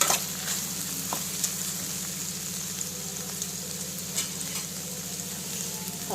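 Okra and garlic frying in a pan, a constant close sizzle broken by occasional scrapes and clinks of stirring, with no voices over it.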